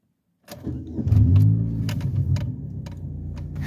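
A manual transmission car's engine restarts after a stall, a close low rumble that rises and then settles into a steady idle, with small clicks and rattles inside the cabin.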